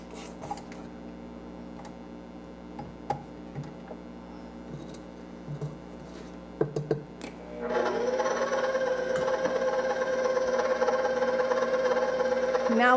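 Stand mixer with a paddle blending gingerbread dough, a steady motor hum with faint scraping and bumps that swells into a louder, whirring drone partway through.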